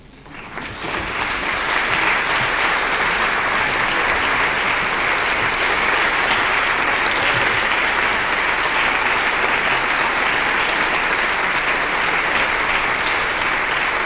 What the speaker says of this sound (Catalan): Poden aplaudir, eh?